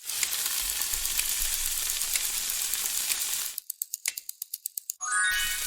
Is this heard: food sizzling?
yes